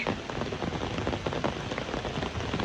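Heavy rain pours steadily during a flood, a dense unbroken hiss and patter on surfaces with no voices.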